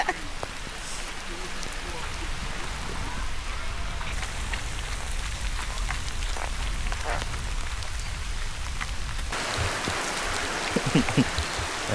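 Steady rain pours down on a campsite with tents, a dense continuous hiss of drops striking surfaces close by, with faint voices now and then beneath the downpour.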